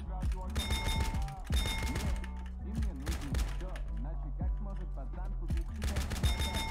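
Rapid bursts of gunfire from a GTA San Andreas multiplayer gang-war match, crackling repeatedly over game music and other sounds, with a voice talking over the shooting.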